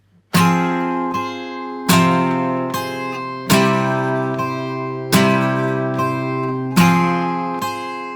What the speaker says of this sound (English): is to play a downbeat, downstroke on the first chord,